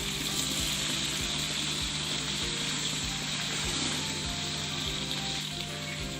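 Onion, ginger and garlic paste sizzles steadily in a hot pan as tomatoes and chopped green chillies go in for a chana pulao, a loud, even frying hiss throughout with no talking.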